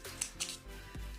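Scissors snip a strip of foam tape in half while press-on acrylic nails are prepared, giving a couple of short, close, crisp cuts with quiet handling noise in between.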